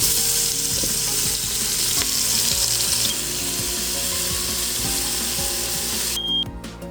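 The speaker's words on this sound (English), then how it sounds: "So what I'm doing here is tenderizing the meat and use the hot oil to give me high flavor." Oxtail pieces sear in hot oil for Jamaican-style oxtail, giving a loud, steady sizzle and crackle throughout. Near the end the frying fades and a brief tap-water or clinking sound enters.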